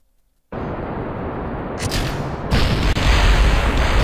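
A rocket explodes in the Kerbal Space Program video game with a sudden loud blast after a moment of silence, a sustained roaring rumble, then a second harder boom that keeps thundering to the end.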